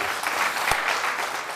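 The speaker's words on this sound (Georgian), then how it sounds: "აპლოდისმენტები." A studio audience on a Georgian comedy game show applauds, a brief steady wash of clapping with one sharper clap standing out midway.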